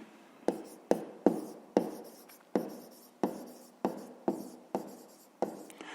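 Pen writing on paper in a maths exercise, a series of about eleven short scratchy strokes spaced roughly half a second apart, close and fairly quiet, with no talking.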